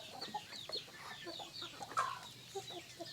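Free-range village chickens on an Indonesian farm cluck in short, scattered bursts, with several birds close by and fairly quiet over a low background hum.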